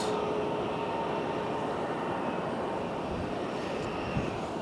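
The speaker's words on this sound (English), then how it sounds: "America West taxing out" An America West jet airliner taxiing out at Phoenix airport, a steady broadband engine rumble and whine holding at a constant level throughout, fairly close.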